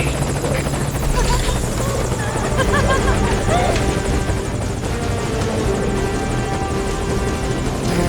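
A helicopter hovers close and loud in Metal Gear Solid V: Ground Zeroes, its rotor drone and engine whine steady throughout, with radio-style voices talking under the din.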